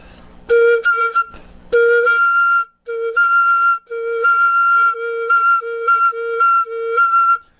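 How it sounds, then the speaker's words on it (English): A flute overblows a series of short, clear tones that jump up an octave, bright and close, with brief breaths between notes. "Flute overblows in an octave,"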